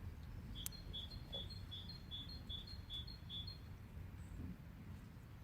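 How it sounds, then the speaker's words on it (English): A series of bright, evenly spaced bird chirps repeats for a few seconds over a low outdoor rumble, with faint extra calls above. "Birds are making their nests."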